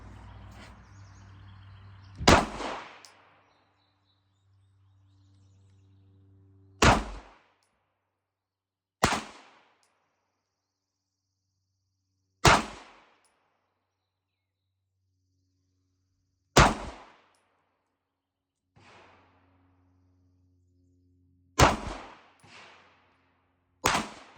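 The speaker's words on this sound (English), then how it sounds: "I'm going to shoot a few Federal HST 124 grains with the Canic." Canik pistol firing Federal HST 124-grain rounds outdoors, several sharp individual gunshots spaced a few seconds apart, each with a short decay, loud and close, with a quick pair near the end and no talking.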